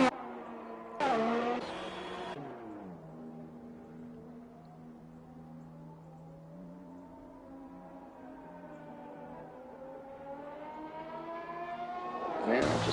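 Racing cars during a qualifying session in Austria, engine whines rising and falling as cars pass, with a loud burst near the start and another swelling at the end.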